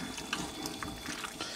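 Boiled porcini and orange birch bolete mushrooms drain in a colander, water trickling and dripping steadily close by with a few louder splashy drips.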